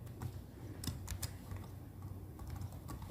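Steady rapid typing on a computer keyboard, close and continuous for a few seconds, with a handful of louder key strikes standing out and no talking.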